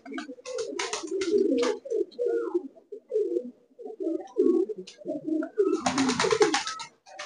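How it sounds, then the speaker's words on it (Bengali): Pigeons cooing inside a large Giribaj pigeon loft, several birds giving repeated low throaty coos close by, with wing flutters and rustling bursts between calls. "আর এর ভিতরে প্রচুর পায়রা আছে"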